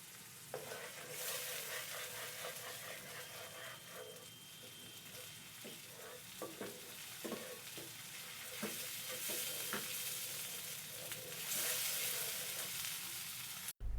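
Yogurt is stirred into an egg curry in a hot pan, giving a steady sizzle with repeated scrapes and taps of a spoon against the pan, close and fairly loud throughout.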